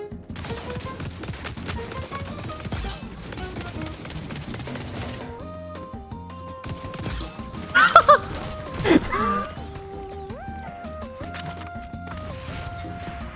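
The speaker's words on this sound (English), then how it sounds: "It's a grenade, dude." A grenade blast in the first-person shooter XDefiant: a loud burst of noise around the eight-second mark, with a second heavy hit soon after, over busy game music and gunfire.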